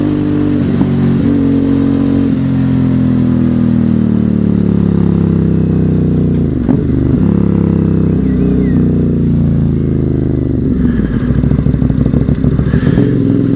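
Aprilia Dorsoduro motorcycle being ridden, its engine droning loud and close with steady rising and falling revs, a clattery mechanical edge and wind rush throughout.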